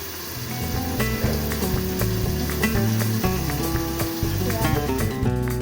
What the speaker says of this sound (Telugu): ఆయిల్ కొంచెం వేడెక్కినాక ఆనియన్స్ వేయండి. ఆనియన్స్ బ్రౌన్ కలర్ వచ్చే వరకు వేగనించండి.